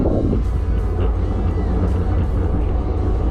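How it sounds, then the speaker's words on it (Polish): A strong gale roars into the microphone of a cyclist riding a road bike in Lubuskie, Poland, just after the rain stops. The buffeting is loud, constant and close, a dense low rumble with no voices. "taka wichura się zerwała"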